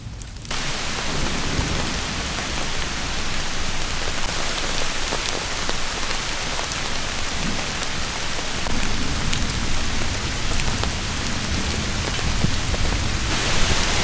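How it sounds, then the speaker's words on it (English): Heavy rain pours down steadily on an overnight camp during a frog-hunting rainstorm, a dense, unbroken hiss of drops close by, with no voices. "Yep, this rain's here to stay."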